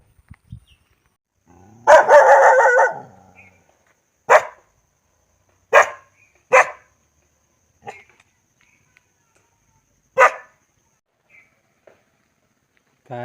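A dog barks in several separate sharp bursts, starting with a longer harsh volley and then spaced single barks, fairly close and loud with quiet gaps between.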